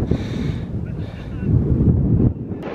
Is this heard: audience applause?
no